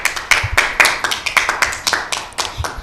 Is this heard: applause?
yes